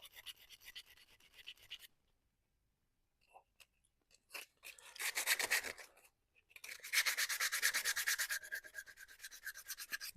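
Hand sanding with 100-grit sandpaper on a part for a tortilla press: close, scratchy rubbing in short bursts, a quiet gap, then longer sustained back-and-forth sanding strokes.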